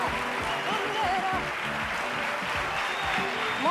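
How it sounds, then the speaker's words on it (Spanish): A studio audience at a 1991 Spanish TV game show applauds steadily and loudly, a dense continuous clatter of hands with voices and shouts mixed in throughout. "¡Un aplauso!"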